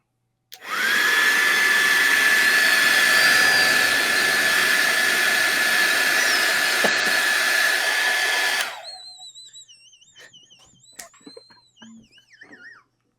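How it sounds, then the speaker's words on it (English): A hair dryer switches on and blows with a loud, steady whine for about eight seconds, then cuts off abruptly, followed by people talking and laughing. "Well, it's not a vacuum. It is a hairdryer."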